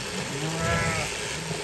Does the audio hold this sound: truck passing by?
no